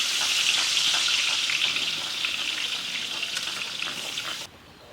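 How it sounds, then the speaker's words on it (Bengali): Kadaknath black chicken meat frying in a village-style pot over a wood fire, a steady loud sizzle of hot oil that runs for several seconds before suddenly cutting out near the end. "মাংসটা একটু কম ভাজলাম ভাই।"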